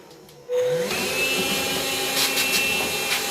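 A vacuum cleaner switches on and whines loudly and steadily as it blows out the filter of a Hotpoint tumble dryer. The motor tone rises after start-up, with faint rattling airflow over the continuous drone.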